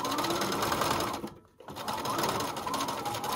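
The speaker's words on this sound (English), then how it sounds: "I'm gonna sew to the end and then just do a nice quick back stitch" A sewing machine stitches a narrow hem in silk, running steadily and fairly close, stopping briefly midway, then resuming its fast, even whir.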